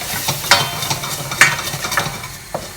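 Butter and flour roux cooking in a pan, stirred briskly into a blonde roux for macaroni cheese, with repeated scraping strokes over a continuous bubbling sizzle, close and fairly loud.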